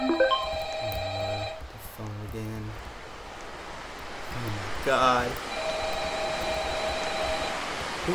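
A phone rings in a Roblox game in repeated electronic trill bursts, several rings with pauses between them, while people talk over it.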